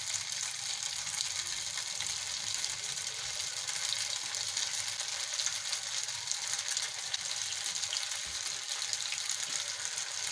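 Chicken macaroni koftas fry in hot oil with a steady, dense sizzle and crackle, continuous and close, with no talking over it.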